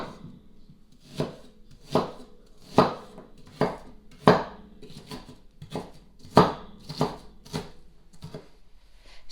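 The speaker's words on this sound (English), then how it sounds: "We're going to chop up 1 whole onion." A knife chops a whole onion on a board in about ten crisp, evenly spaced thuds, each one close and sharp against a quiet room.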